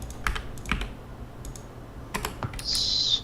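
Typing on a Wooting keyboard, a handful of sharp key clicks in irregular bursts, close and fairly quiet, followed by a brief high electronic tone.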